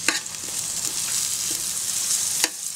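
Small bacon lardons brown with golden onions in a pan, sending up a bright, steady sizzle with a few quick stirring clicks, close and alone.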